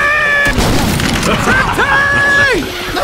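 A grenade blast in the zombie shooter Left 4 Dead 2 rings out as a loud, broad burst amid game noise, with character voices shouting over it.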